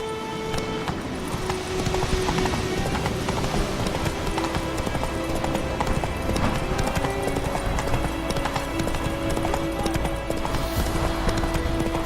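Steady clip-clop of a horse's hooves galloping in The Witcher 3: Wild Hunt, continuous and fairly close, running under a layer of game music and ambience with no pauses.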